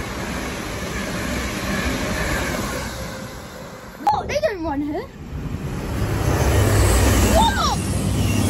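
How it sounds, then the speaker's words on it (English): A fast train rushes past at Hatfield on the East Coast Main Line with a rising, steady roar, while a voice speaks briefly over the passing noise. "it's fast train"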